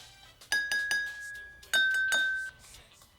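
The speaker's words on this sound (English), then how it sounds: "Use a spoon to tap each glass and compare the pitches." Several bright glass tings ring out, a spoon tapping a water glass in two bursts of quick strikes, each tone sustaining clearly and close by.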